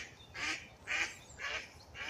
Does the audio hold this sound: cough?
no